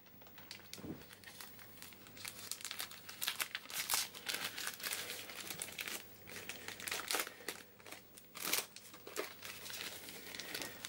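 A trading card pack's foil wrapper is crinkled and torn open in quiet, close, irregular bursts of crackling and rustling.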